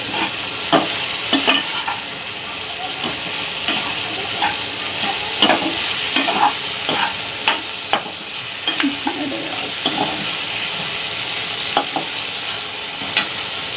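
Chilli paneer with tomato ketchup is stirred in a frying pan, a steady sizzle with repeated scraping strokes of the spoon across the pan throughout, close and fairly loud.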